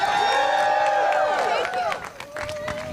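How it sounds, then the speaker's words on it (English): A crowd at a rally to protect HUD applauds and cheers for Representative Tlaib, with loud clapping and whoops mixed with babble, easing slightly toward the end. "Y'all give her a hand of applause."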